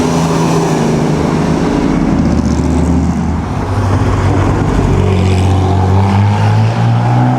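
Ferrari racing car in the Mille Miglia, a loud, steady engine roar close by with a continuous drone and no clear pause, passing through a road setting.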